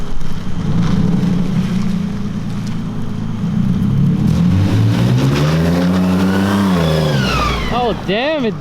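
A turbocharged V6 truck engine idles roughly, then revs up repeatedly with rising and falling pitch sweeps and turbo whine, loud and close, ending in quick sharp blips; voices can be heard around it.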